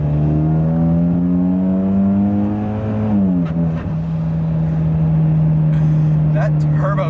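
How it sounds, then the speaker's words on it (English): A modified Hyundai Genesis Coupe 2.0T pulls hard with a rising engine drone, then the note drops sharply as the turbo blow-off valve vents, before the engine settles into a steady hum. Someone talks over it throughout. "That turbo sound is just, I mean, with the blow off valve, it really, I like it."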